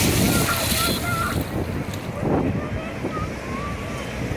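Ocean waves roll and break steadily on a Goa beach, a loud continuous wash of surf with wind buffeting the microphone and faint voices in the background.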